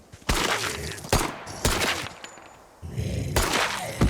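Pistol shots fired at a zombie in a village horror video game, four loud sharp cracks spaced irregularly over a few seconds, close and punchy with reverberant tails and no voices.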